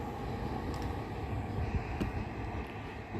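Northern train pulling away from Preston platform 1 toward Blackpool North, a steady low rumble and hum of the moving train heard close and continuous throughout.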